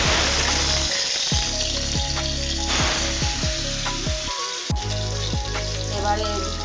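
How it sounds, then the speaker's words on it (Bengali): Fish frying in hot mustard oil in a wok gives a steady, close sizzle with bursts of crackle and spatter throughout. A strong low tonal hum and a few clunks from stirring or setting pieces in sit under it. "মাছটা ভাজবো, তেলটা গরম হোক।"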